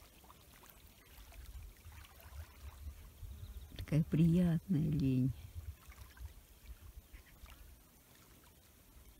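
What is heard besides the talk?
gentle splashing of water on Lake Issyk-Kul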